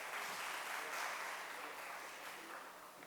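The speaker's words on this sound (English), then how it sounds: "Can you applause this guy," A public school classroom audience claps in a soft, dense patter of many hands, fairly distant and gradually tapering off over a few seconds.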